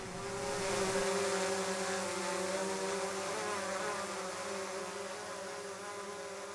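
Autel Evo 2 Pro drone hovering indoors on a stage, a steady loud whine of propellers with tonal hum held throughout, no talk.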